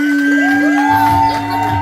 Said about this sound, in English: Make some noise for Tiffany.